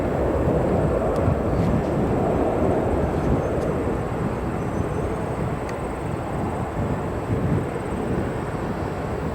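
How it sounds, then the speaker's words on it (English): A United Airlines Boeing 737 in Star Alliance livery moving at O'Hare Airport gives off a loud, steady, broadband jet roar that holds evenly through the whole stretch, with a faint high whine riding above it. "Go over, we have this United Airlines Star Alliance livery 737."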